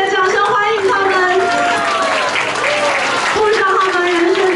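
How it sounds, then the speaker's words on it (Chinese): Wedding guests clap steadily for the bride and groom at a wedding reception, a dense, sustained wash of applause that runs the whole time with voices and tonal sound layered over it. "我们给新龙新娘也热切的掌声欢迎他们"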